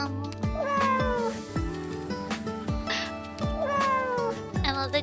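Cartoon cat meowing from a video game, several drawn-out meows with rising and falling pitch, fairly loud and clear over a steady game background; one may be a yawn-like drawn-out call.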